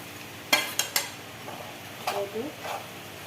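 Flour frying in ghee as it is stirred in a pan, with sharp scraping clatters of the spoon against the metal early on, softer stirring strokes later, and a faint sizzle underneath.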